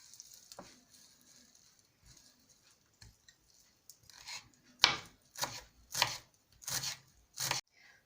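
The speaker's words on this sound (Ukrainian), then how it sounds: "Тепер дрібно нарізати зелень" Knife finely chopping fresh dill and parsley on a board, starting with sparse quiet taps and building to a run of sharp, evenly spaced chops, close and fairly loud.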